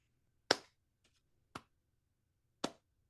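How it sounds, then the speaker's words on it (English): A slow golf clap: three separate, crisp hand claps spaced about a second apart, close and isolated against near silence. "Golf clap."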